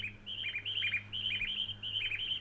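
Repeated bright bird chirps and tweets fill a quiet railway station in Train Simulator 2022, set on the Tohoku high-speed and main line, with short bursts of song over a low steady hum.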